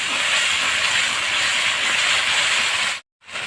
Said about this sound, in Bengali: আমি এর ভিতরে আমি একটু জল দিয়ে দেবো কষানোর জন্য